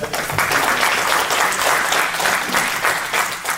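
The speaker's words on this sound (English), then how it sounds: "Let's hear it for Trey." A business-event audience bursts into loud, sustained applause, a dense wash of clapping that swells and continues steadily for several seconds with no speech over it.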